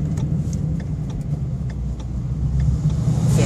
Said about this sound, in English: It's the way exhaust should be.